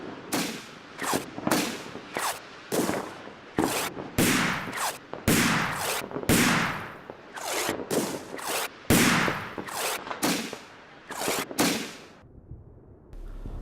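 An artillery fire mission in the Combat Mission wargame: a long series of sharp, loud blasts arriving in irregular clusters, each with a short rumbling tail, and a brief quieter gap near the end.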